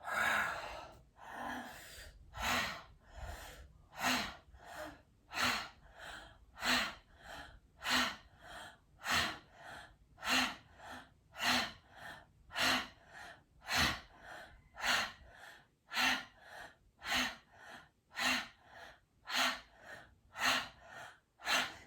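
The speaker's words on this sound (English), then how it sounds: "It's an inhale through open mouth, and then exhale." Repeated breaths during a yoga exercise, each an audible inhale through the open mouth followed by an exhale, in a slow, even rhythm of close, breathy puffs roughly once a second.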